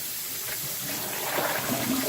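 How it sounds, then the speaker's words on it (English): Cold tap water runs steadily over pan fish fillets in a sink, a close, continuous rushing splash that grows slightly louder and more turbulent toward the end. "I just run nice cold water through these"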